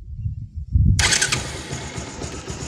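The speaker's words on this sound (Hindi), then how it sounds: "सेल्फ दबा रहा हूँ, ये देखो" A Bajaj Pulsar 220 motorcycle's self-starter is pressed and the engine catches right away, a sudden loud crank and fire that settles into a steady close idle.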